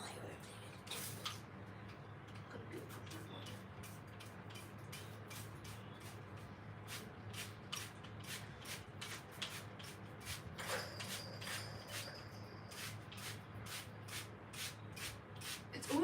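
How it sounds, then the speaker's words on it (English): Repeated scrubbing and rubbing on a bedroom carpet during cleaning, a steady stream of sharp, rhythmic brush strokes close by, with faint talk and low room hum underneath. "I'm just like in my room right now cleaning the carpet"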